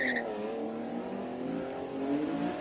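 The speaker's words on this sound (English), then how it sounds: "Jacob Mashokwa, your boy is about to leave the start line" A classic car revs and pulls away from the start line at the Speed Classic hill climb in Cape Town, a steady loud engine drone with rising harmonics and a brief tire chirp at the start.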